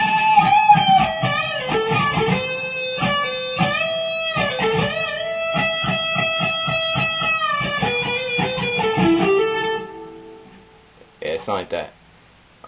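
Electric guitar playing a passage from a solo, a steady run of sustained single notes and bends for about ten seconds, then a few brief plucked notes after a pause.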